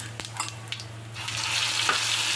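Mustard seeds, cumin and asafoetida crackle in hot oil for a vegetable dish, swelling into a denser, louder sizzle partway through over a low steady hum.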